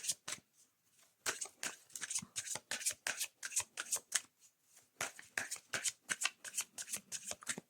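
An oracle deck being shuffled by hand, with rapid bursts of crisp card riffles and flicks in quick irregular runs, close and clear with a short pause midway.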